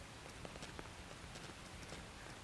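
Soft rain falling in the video game Xenoblade Chronicles X, a steady faint hiss with scattered light patter throughout.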